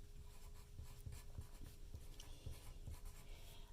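A pen scratches on paper in a quiet room, faint close strokes in irregular short bursts with a low steady hum beneath.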